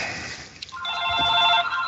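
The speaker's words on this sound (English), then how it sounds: "You have a phone ringing." A telephone ringing, an electronic trilling tone with bright harmonic pitches that swells in over a hissy background and keeps sounding, with no talk over it.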